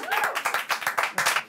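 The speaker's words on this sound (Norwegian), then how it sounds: "Det den rareste applausen jeg har fått" A small group claps briefly in a brisk, uneven patter of close hand claps lasting just over a second.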